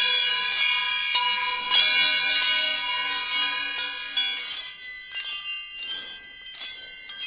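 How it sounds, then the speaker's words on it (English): A wind chime made from bent forks and flattened spoons rings with bright metallic clinks and shimmering, overlapping tones that sustain and decay as it is struck repeatedly. "Here's another one where the fork has been bent and the spoons have been flattened out. And listen how wonderful that is for a wind chime."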